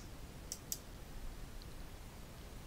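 Two crisp computer mouse clicks in quick succession, close and distinct, made while selecting a method name in Java API documentation, over a faint steady room hum with no speech.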